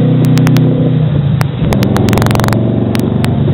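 Loud, close V8 rumble from a 2009 Dodge Challenger R/T six-speed with Kooks long tube headers, Kooks high-flow cats and MBRP exhaust, a steady throaty drone broken by sharp crackling pops.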